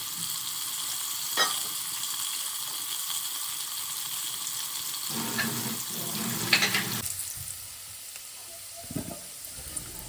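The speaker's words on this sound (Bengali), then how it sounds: "আলুগুলো ভাজার সময় একটুখানি হলুদ আর লবণ দিয়ে দিচ্ছি" Potatoes fry in oil with turmeric and salt, giving a steady soft sizzle throughout, with occasional stirring scrapes and clatters near the middle and end.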